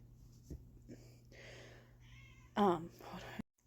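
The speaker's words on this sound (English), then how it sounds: "That's my cat." A pet cat lets out a short, close meow near the end, after faint quieter sounds, with someone talking around it.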